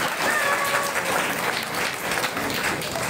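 A crowd at a Bhagwat katha gathering in Govindpuri, Delhi, applauds together to mark Ekadashi, a dense and steady burst of clapping from many hands that stays loud for the whole stretch.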